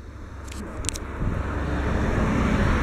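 A truck drives past on a road near the ocean, its engine and tyre rumble swelling steadily from moderate to loud as it approaches, with a faint high tone early on.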